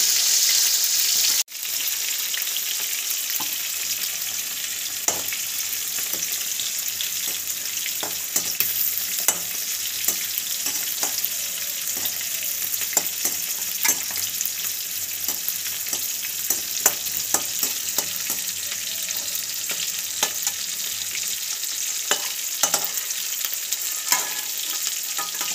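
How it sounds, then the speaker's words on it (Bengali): Cashews and raisins fry in oil and ghee in a wok, giving a continuous bright sizzle with frequent clicks and scrapes of stirring throughout, and no voices. "কাজু কিশমিশগুলো ভেজে নেবো"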